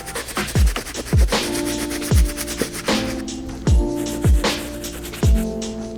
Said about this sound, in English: I'm gonna continue to use our medium bristle brush